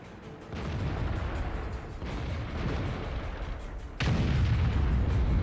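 A tier 8 tank's heavy gun firing HE rounds in World of Tanks, with three deep booming blasts about two seconds apart, each followed by a loud, sustained low rumble.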